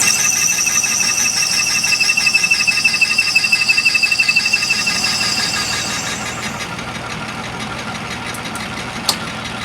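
Atlas lathe running under power feed while cutting metal, a steady close mechanical whir with rapid rhythmic ticking and high tonal whine that fades partway through, ending with a single sharp click.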